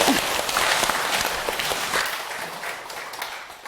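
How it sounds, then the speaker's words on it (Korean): Audience applause at a Buddhist monk's dharma talk, a dense steady patter of many hands that slowly thins and fades toward the end, with no voices over it. "박수 한번 부탁드릴게요"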